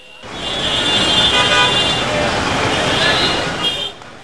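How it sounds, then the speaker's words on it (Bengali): Vehicles in front of an airport in Dhaka sound their horns in a sustained, loud blare over the rumble of road traffic, with faint crowd chatter underneath. "বিমানবন্দরের সামনেই হর্ন বাজিয়ে চলছে বিভিন্ন ধরনের যানবাহন।"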